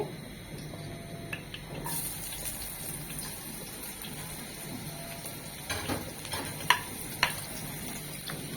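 Chopped onion and carrot sauté in a pan for chicken sandwich filling: a steady, moderate sizzle with stirring scrapes, growing busier after the first two seconds and punctuated by a couple of sharp utensil clicks near the end.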